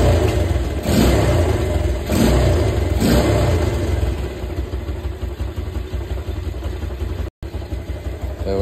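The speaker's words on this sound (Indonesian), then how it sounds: "Udah ademan ya mesinnya ya," Yamaha Vega R motorcycle engine idling steadily after a kick start, a close continuous low thrum with a few slight rises in revs early on, running alone without talk.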